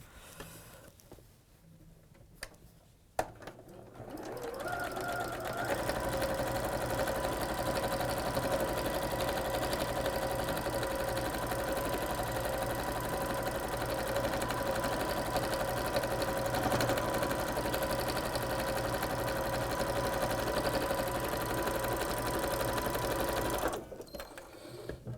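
A sewing machine runs steadily for about twenty seconds while stitching a wall hanging, a loud continuous motor whir with a tonal hum, starting after a brief quiet pause and stopping abruptly near the end.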